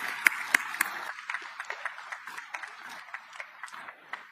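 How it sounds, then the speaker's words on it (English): An audience at a military change-of-command ceremony claps for the family, steady scattered applause that stays fairly soft and even, with a few sharper claps standing out early. "So a round of applause for the family."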